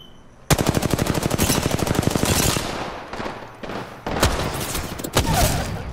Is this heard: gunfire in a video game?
yes